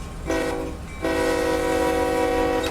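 A locomotive horn sounds from a passing train in the Run 8 Train Simulator railroad game: a short sustained blast followed almost immediately by a longer, steady one, loud and close, with no voices over it.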